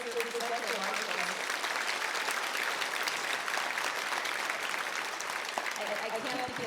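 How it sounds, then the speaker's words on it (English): A large audience at a UCLA doctoral hooding ceremony applauds the professional marshals, sustained dense clapping at an even level throughout, with a few voices faintly beneath. "please join me in applauding again our two amazing and really impressive professional marshals"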